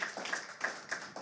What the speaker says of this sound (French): je vous demanderai, s'il vous plaît, d'applaudir nos athlètes